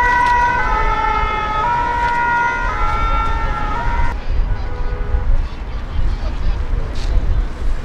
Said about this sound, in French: il y a les pompiers qui arrivent